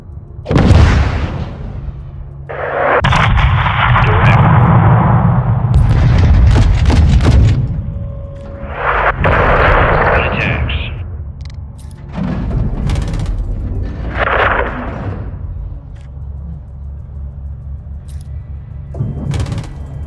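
Artillery strike on a cartel gas station in Call of Duty: Modern Warfare II, a series of heavy booming explosions with rumbling debris, loud and close, several blasts spread over the span.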